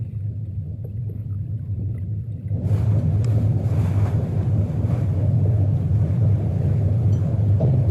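A motor-powered whaling boat approaching across the sea, its engine drone rising suddenly out of a low rumble to a loud, constant roar mixed with wind and water noise.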